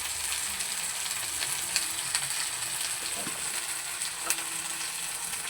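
Ground cumin and red chili powder sizzle in hot oil in a pan, a steady close crackle with occasional sharper pops and light stirring scrapes. No one talks.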